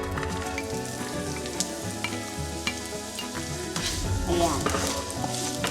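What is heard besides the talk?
onion sizzling while stir-frying in a pan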